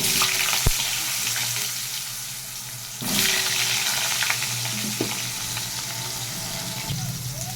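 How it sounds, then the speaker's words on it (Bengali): Cut potatoes frying in hot oil with whole cumin and bay leaf, after fish has been fried in the same oil: a steady close sizzle throughout, with a few sharp clinks and stirring scrapes. "আলুটাকে বেশ ভালো করে লাল করে ভেজে নেব।"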